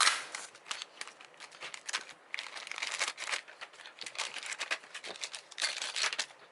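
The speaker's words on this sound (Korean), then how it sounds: "포장을 뜯어볼게요." Packaging for a spur gear machining jig is torn open and crinkled by hand, giving a run of close crackling, rustling bursts with no talking.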